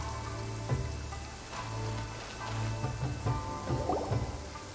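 Steady rainfall in Genshin Impact, a soft, even patter of drops on surfaces with faint dripping throughout, moderately close and continuous, with no voices over it.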